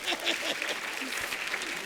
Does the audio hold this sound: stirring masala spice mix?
no